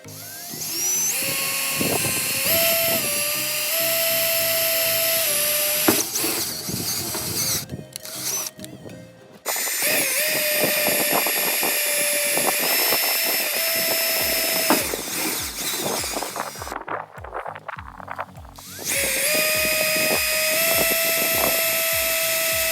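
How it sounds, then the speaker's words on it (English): A step drill whirs in long, loud bursts, its pitch rising and falling as it bites through the metal trunk of a 2009-2013 Toyota Corolla, with brief pauses between holes. "So we're just going to drill into the trunk now."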